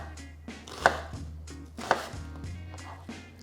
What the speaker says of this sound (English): you're gonna chop your onion into wedges